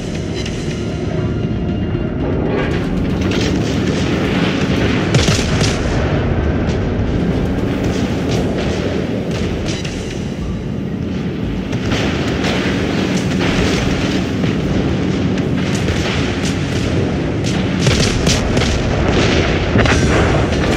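Naval gunfire from a cruiser in World of Warships, a continuous rumbling barrage of heavy booms and crackling shots holding steady and loud throughout, with no voices.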